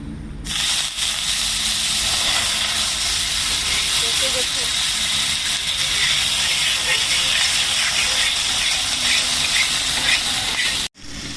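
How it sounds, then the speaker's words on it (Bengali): Water poured onto a hot tawa while making vegetarian aloo kulcha hisses in a loud, steady rush of steam that lasts throughout and cuts off sharply near the end. "আমি একটা জল দিয়ে দিচ্ছি তাবাটা"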